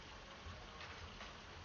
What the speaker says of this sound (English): So this is called the Stir Waterfall